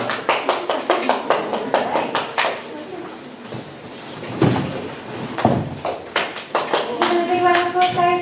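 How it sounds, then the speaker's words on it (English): Rhythmic claps from an audience applauding storytellers in a myth and ritual performance, uneven and punchy, with speech and vocal sounds mixed in toward the end. "Clans, come on out and receive your applause."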